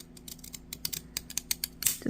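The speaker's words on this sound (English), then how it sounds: "I'm just going to use these little jaggedy scissors here" Rapid, crisp snipping of decorative jagged-edge scissors cutting through paper, a steady run of close, sharp cuts with a slight rustle at the end.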